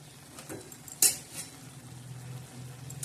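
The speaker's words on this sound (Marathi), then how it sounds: "तर चला मैत्रिणी, आता आपण बघूया आणि हलवूया आपली पालकची भाजी." Spinach and mung dal curry being stirred in a pan, soft scraping with one sharp metallic clink of a utensil against the pan over a faint sizzle, close and quiet.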